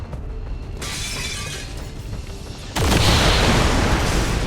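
A single loud gunshot in a video game cracks out abruptly partway through, followed by a sustained noisy wash of crashing, shattering debris that stays loud to the end.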